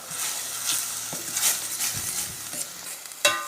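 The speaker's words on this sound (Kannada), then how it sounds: "ಈಗ ಹಸಿ ವಾಸನೆ ಹೋಗೋ ತನಕ ಚೆನ್ನಾಗಿ ಮಿಕ್ಸ್ ಮಾಡುವ" Ginger garlic paste frying in a pan while being stirred for a cabbage egg curry, a steady close sizzle with repeated scraping strokes of the spoon and a sharper knock near the end.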